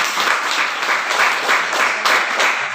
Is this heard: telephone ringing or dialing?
no